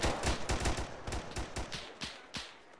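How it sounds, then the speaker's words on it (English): Rapid bursts of gunfire in the Arma 3 military shooter game, a flurry of sharp overlapping shots over nearly three seconds, loud and close, thinning out into a few spaced single cracks at the end. "Who's shooting?"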